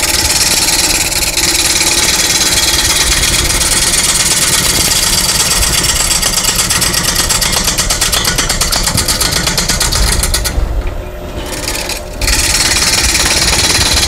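Wood lathe roughing out a wooden hat at 400 RPM, a steady loud grinding rasp of the tool on spinning wood with a constant motor drone, briefly easing near the end.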